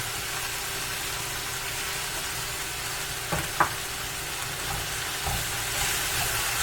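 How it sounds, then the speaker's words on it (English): Ginger frying in a hot pan gives a soft, continuous sizzle with a couple of brief clinks from stirring, faint and steady throughout without talk. "Get our ginger in there, start getting those flavors cooking."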